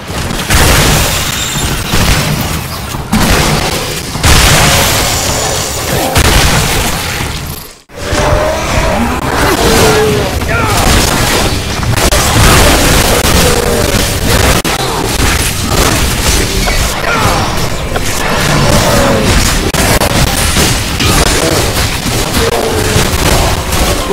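Gunfire and explosions from the action video game Shadow Warrior 2 form a loud, dense, continuous barrage of booms and crashes, with a brief dropout near the eight-second mark before the blasts resume.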